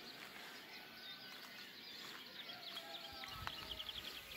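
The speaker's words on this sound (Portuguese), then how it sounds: "é só ouvir este som ao fundo, magnífico, dos pássaros a cantar" Birds singing at dawn on Graciosa island, faint chirps and short whistled calls scattered over a soft outdoor background, with some light rustling toward the end.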